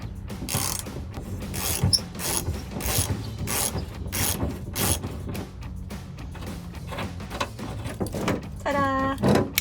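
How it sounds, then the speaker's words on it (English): A ratchet clicks rapidly in repeated bursts while loosening an old, long-untouched seat belt bolt in a Jeep Wrangler YJ, with short pauses between strokes and a final creaking squeal as the bolt gives way. "we are gonna remove this bolt"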